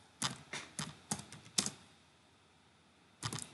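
Several quick keystrokes on a computer keyboard while a Facebook page name is typed, a short burst of clicks, a pause, then a few more taps, close and fairly faint, with no talking.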